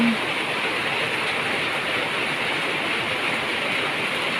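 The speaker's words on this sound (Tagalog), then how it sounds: "ayan na uli ang ulan" Heavy rain pours down steadily in a flood-hit area, a dense, continuous hiss of water with no break from start to finish.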